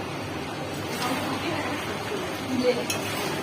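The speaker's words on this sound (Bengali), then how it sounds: "মেয়ে মাংস রান্না করছে কষছে" Chicken meat being stir-fried in a pan gives a low, steady sizzle with faint scraping of stirring and a single light metallic clink near the end. A voice is faintly heard in the background.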